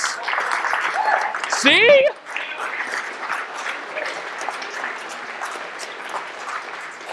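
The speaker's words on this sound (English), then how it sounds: "give yourself a round of applause" A conference audience at Southeast Ruby 2017 gives itself a round of applause, dense clapping that swells and then fades into a lighter patter under a speaker's voice.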